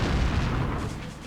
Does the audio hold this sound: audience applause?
no